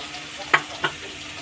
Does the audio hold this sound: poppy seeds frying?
yes